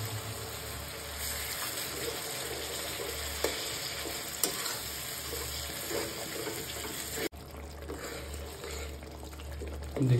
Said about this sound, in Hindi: डाल के इसको थोड़ा और भूनेंगे।